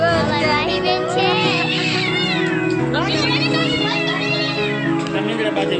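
A cat meows repeatedly and loudly up close, with drawn-out, wavering cries that rise into caterwauling, while a voice talks to it in the background.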